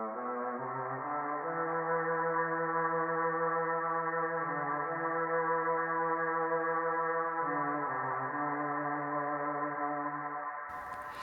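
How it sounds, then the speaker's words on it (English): A sustained violin line, pitch-shifted an octave lower, gives a dark, heavily processed bowed tone that holds steady notes with occasional slides between pitches, smooth and continuous with no voices over it. "another track with the same violin, but this time pitch shifted an octave below"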